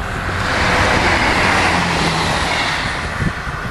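A passenger train rushes past with no horn, a loud, close, broadband roar of wheels and cars that holds steady throughout.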